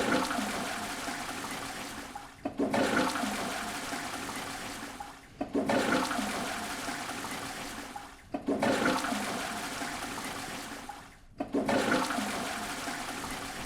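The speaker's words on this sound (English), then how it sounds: "head to any of the toilets and flush the toilet 8 times" Four toilet flushes in a row in the video game Resident Evil Requiem, each a loud rushing surge of water that drains away before the next starts, with a brief pause between them.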